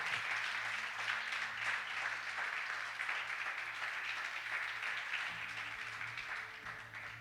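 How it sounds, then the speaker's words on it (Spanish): Soft, continuous applause from a church congregation during a morning service, a dense, even patter held at low volume throughout with a faint hum beneath. "regalarle un fuerte aplauso al Señor en esta mañana"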